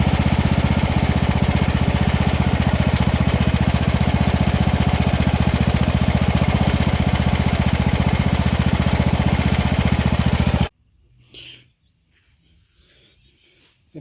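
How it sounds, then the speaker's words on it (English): A Poulan 38 inch riding mower engine idles, a loud, steady, close rumble for about ten seconds before cutting off abruptly, followed by faint handling noises. "I'm going to go ahead and let this sit here and idle for a little bit, get that oil warm"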